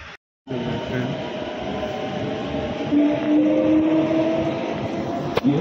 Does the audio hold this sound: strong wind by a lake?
no